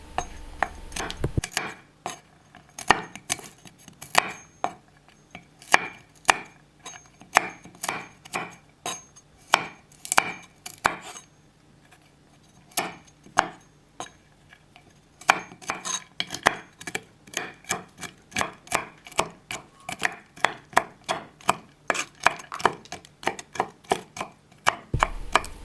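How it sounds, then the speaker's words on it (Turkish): A knife chops hazelnuts finely on a board with rapid, sharp knocks in quick bursts, close and crisp, pausing briefly before another run of steady strokes. "Fındıkları da ince ince kıydım."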